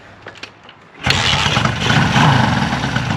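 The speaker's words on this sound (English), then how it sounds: "the cool part of this is the kickstart" A 1974 Honda CB550 motorcycle is kickstarted: faint clicks, then the engine catches abruptly after one second and keeps running as a loud, steady, close mechanical rumble that rises slightly.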